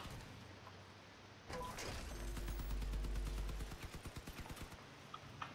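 Gunfire in the vehicle combat game Crossout comes as a rapid automatic burst of evenly spaced shots that slows into separate bangs, fairly distant and faint over a low mechanical hum.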